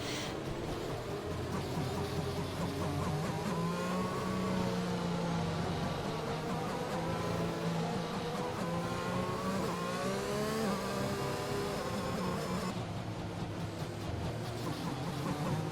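A race car engine in a racing video game accelerates hard, with a continuous loud whining roar that climbs in pitch through gear changes. A second engine tone mixes in.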